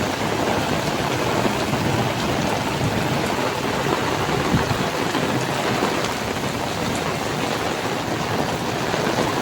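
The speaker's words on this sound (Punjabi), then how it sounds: "ਇਹ ਅਚਾਨਕ ਬਹੁਤ ਜ਼ਿਆਦਾ ਮੀਂਹ ਆ ਪਿਆ" Heavy rain pours down in a dense, continuous roar, loud and steady throughout with no voices.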